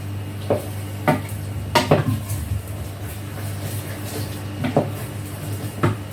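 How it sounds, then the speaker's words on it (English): Chicken and bacon pie filling is mixed in a pan with a spoon: repeated clanks and scrapes against the metal over a steady low hum, with a faint sizzle underneath. "And mix all of that together"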